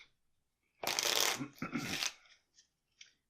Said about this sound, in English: shuffle this up really good